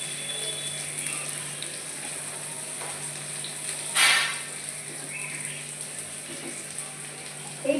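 Chopped tomatoes go into a pan of lightly fried onion and garlic for a non-veg moong dal, giving a steady close sizzling hiss with a brief louder crackling surge midway.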